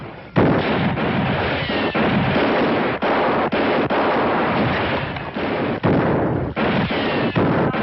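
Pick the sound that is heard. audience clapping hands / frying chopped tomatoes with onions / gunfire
gunfire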